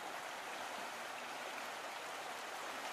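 Steady broadband rush of creek water flowing along a horse trail, continuous and even at moderate level with no voices.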